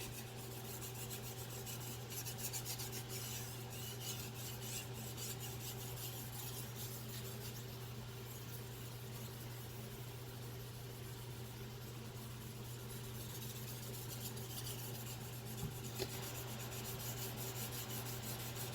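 A Victorinox 8-inch Swiss steel chef knife is sharpened on a 3000-grit Chosera whetstone, giving a soft, continuous scraping rub of repeated strokes over a steady low background hum.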